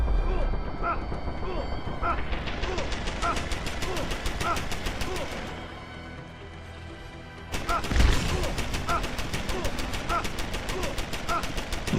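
Automated turret gunfire in the stealth shooter Deus Ex: Human Revolution: rapid, steady, close bursts that pause briefly mid-clip and then resume loudly with a heavy impact, while a voice talks underneath.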